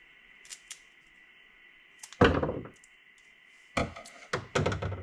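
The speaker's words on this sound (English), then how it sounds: "I'm going to cut these down to about 8 inches at an angle" Peach tree cuttings snipped to length at an angle with pruning shears, a few sharp close cuts and thunks separated by quiet gaps, over a faint steady hum.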